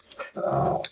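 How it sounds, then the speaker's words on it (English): A dog growls at another dog that has come too close to its bone, a short, low, rumbling growl heard in the background of an indoor room. "if you hear that in the background, it's my dog, and he's growling at another dog for getting too close to his bone"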